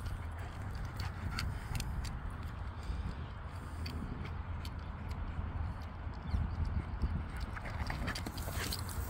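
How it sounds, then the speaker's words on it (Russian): Two spirited horses trot along outdoors, their hooves clip-clopping in a steady, fairly close rhythm over a dense background rumble. "Две бешеные лошадки."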